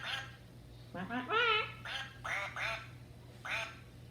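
A person's voice imitates a duck quacking for a puppet, giving a series of nasal quacks in quick bursts with short pauses between them.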